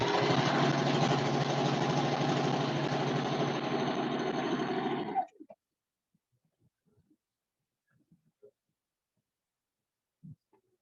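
Sewing machine stitching curtain fabric along a header line, a steady, loud mechanical whirring for about five seconds that stops abruptly, followed by faint handling clicks and taps.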